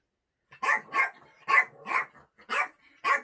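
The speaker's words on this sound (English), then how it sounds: "Will you stop it, you daft dog?" A dog barks six times in two-beat bursts, close and fairly loud with short silent gaps between the barks.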